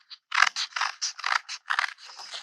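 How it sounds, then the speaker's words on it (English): Scissors snip through several stacked sheets of old book paper, a rapid series of about ten crisp cutting crunches in irregular rhythm, close and fairly quiet, with no talking. "my scissors are pretty good, so I can cut several sheets of paper at one time"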